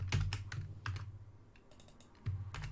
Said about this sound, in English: And that's just me typing really fast.